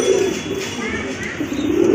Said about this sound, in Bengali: এই মডার্না কবুতরগুলো কিন্তু গাজী মডার্না